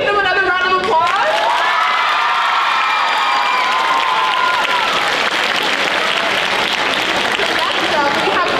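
An audience at a school International Day event breaks into loud, sustained applause with cheering and whoops, and a high shout rises early on before the clapping carries on as a dense wash.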